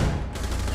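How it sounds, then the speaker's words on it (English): Gunfire in Rainbow Six Siege, Border map, striking the player from behind: a dense, steady burst of shots close by, filling the short moment with little pause. "Ooh, shot in the back."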